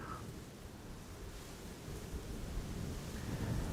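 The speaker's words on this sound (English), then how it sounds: "To me it doesn't feel like the wind is slowing down." Strong crosswind at Amsterdam Schiphol Airport, a broad, steady roar of gusting wind buffeting the microphone, faint and rising slightly toward the end, with no voices.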